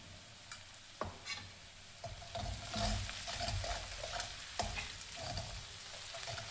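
Savji masala with vegetables frying on low heat for a Nagpuri fish dish, a steady soft sizzle broken by scraping stirs and occasional spoon knocks against the pan, close and alone.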